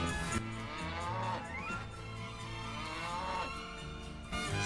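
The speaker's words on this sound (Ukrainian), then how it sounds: "Звісно, це корова." A cow moos over a music-like backing, the lowing rising and falling in a couple of drawn-out calls.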